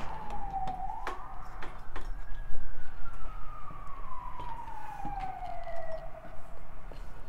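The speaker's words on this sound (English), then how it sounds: "we've got an ambulance going by" An ambulance siren passes outdoors, a rising and slowly falling wail heard at moderate distance over traffic rumble and scattered clicks, no talking.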